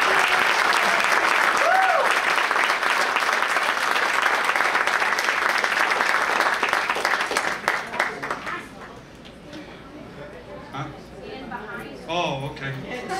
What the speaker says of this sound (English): give them another nice hand clap today